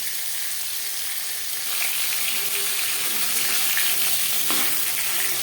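Steady, loud sizzling of katla fish frying in hot oil, a continuous crackling hiss with a brief clink partway through.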